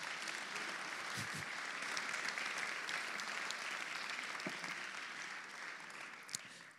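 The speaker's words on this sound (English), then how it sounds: "And a big applause, please." Steady, sustained applause from a crowd at a philosophy theatre talk, dense clapping that holds evenly throughout with no voices over it.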